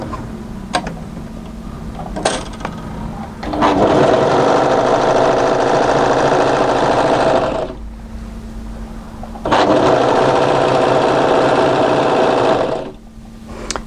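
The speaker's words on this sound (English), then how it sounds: "Now we're going to move to our overlocker and overlock to secure that edge." Overlocker stitching the edge of a kimono kaftan: two loud, steady bursts of fast mechanical whirring, each a few seconds long, separated by a short pause with only a faint hum, and a few light clicks before the first run.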